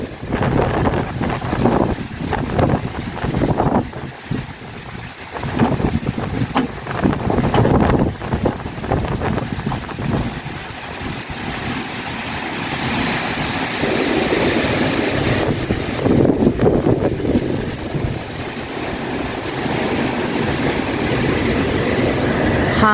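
Strong typhoon wind gusting and whistling past high-rise buildings in Hong Kong, a loud continuous roar that swells and eases with sharp buffeting on the microphone, no voices.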